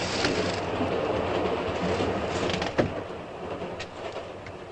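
A passenger train rolls along with a steady, continuous rumble and rail clatter filling the scene, broken by one sharp knock near the end; no one speaks.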